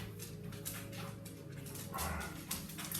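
Dogs moving about a room during a home yoga session, with soft whimpers and brief bow-wow sounds over a steady background hum, fairly faint and close.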